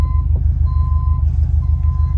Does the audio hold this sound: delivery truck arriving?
yes